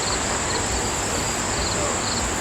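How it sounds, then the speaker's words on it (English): Honeybees swarm around an opened hive, their dense, steady buzzing filling the air close by without a break. "We got quite a few bees."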